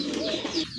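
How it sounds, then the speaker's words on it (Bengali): A pair of pigeons gives a brief, soft, throaty coo at close range, lasting under a second. "এক জোড়া কবুতর"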